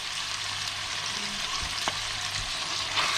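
Chopped goose organ pieces frying in a pan while being stirred, a loud, steady hiss of sizzling fat close by, with a few soft scrapes and knocks of the spoon against the pan.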